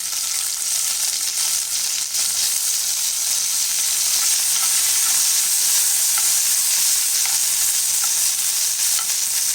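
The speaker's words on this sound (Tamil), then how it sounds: "இது நல்லா வதக்கிக்கலாம்." Garlic, a green chilli and tomatoes sauté in a spoonful of hot oil for a Tamil tomato-mint chutney, giving a steady, loud sizzle with faint stirring clicks throughout and no talk.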